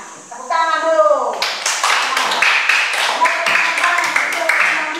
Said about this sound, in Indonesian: Oke, betul, tepuk tangan dulu.